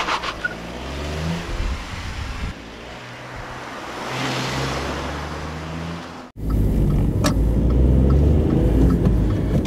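A used Volkswagen Up small hatchback drives along a road, its engine and tyre roar steady and close, then swelling louder and rougher partway through as the car picks up pace.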